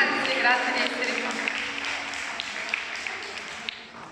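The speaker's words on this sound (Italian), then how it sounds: "Facciamo un bel applauso a tutti voi." A theatre audience in a church hall applauds, a broad wash of many hands that starts strong and gradually thins and fades over a few seconds, with a voice speaking over the start.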